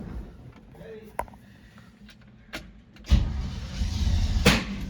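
A car engine cranks and catches, a sudden loud, rough burst of mechanical noise after a few seconds of quiet, with scattered clicks and faint voices in the background beforehand.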